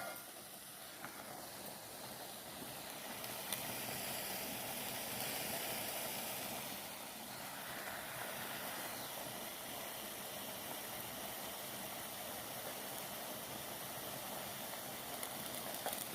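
Carrots sauté on a stovetop for Kerala-style mezhukkuperatti, producing a soft, continuous hiss that holds steady and fairly faint for the whole stretch, with no one speaking.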